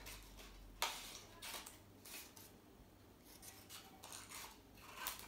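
Scissors cut out a paper shape with a series of quiet, irregular snips and rustles, close and faint, with no talking.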